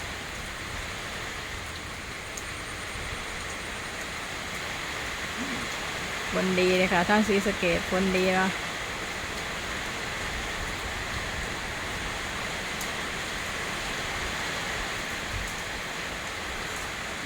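Light rain falling around a house, a steady soft hiss of drizzle continuing throughout, with a voice speaking briefly in the middle.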